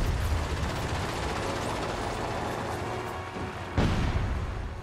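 Breda Ba.27 warplane guns fire at a target in World of Warplanes, a dense continuous roar of rapid gunfire and engine noise with a sharp burst near the end.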